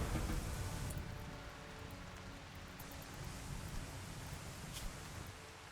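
Steady rain falls in a video game, a dense close hiss of drops on surfaces that runs continuously without speech.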